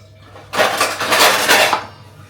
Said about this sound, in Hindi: मैं आ गई बर्तन धोने के लिए